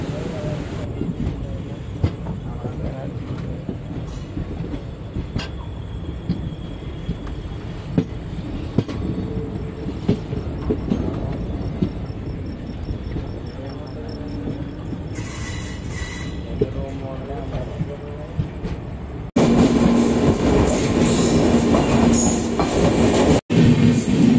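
The Circar Express rolls steadily along the rails between Kakinada Port and Puducherry, a continuous rumble with wheel clatter and faint squeals, heard from inside, growing louder and harsher near the end.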